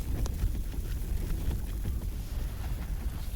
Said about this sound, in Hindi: इतनी तेज़ हवा चल रही है, बार बर्फीला तूफान आ रहा है